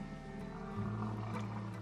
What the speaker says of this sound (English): You will notice the grunting sound that the males are making.